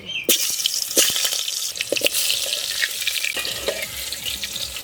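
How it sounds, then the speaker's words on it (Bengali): Potatoes fry in hot mustard oil in a small pot, crackling and spattering loudly up close with bursts of popping over a constant hiss, and no one speaking. "সর্ষের তেল দিয়ে দিচ্ছি আলু ভাজার জন্য"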